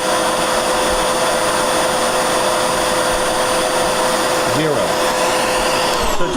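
A loud Riccar vacuum cleaner drones steadily nearby, its motor whine holding constant with a brief pitch wobble near the end.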